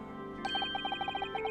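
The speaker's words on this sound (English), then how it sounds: "Is that a phone call?" A telephone rings in The Great Ace Attorney Chronicles game, with a sudden onset followed by a steady run of rapid, evenly spaced electronic trills, bright and clear over faint background music.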